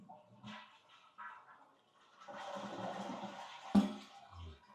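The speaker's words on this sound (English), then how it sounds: "We're going to flush it one more time, check everything." A newly installed toilet is flushed, a gurgling rush of water rising after a few soft sounds, with a brief knock near the end and the refill trickling faintly.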